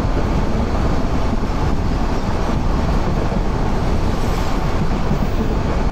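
A freight train rolls past close by near a station on a foggy rail route in Bangladesh, a loud and continuous rumble of wagons that stays steady for the whole stretch, with no voices.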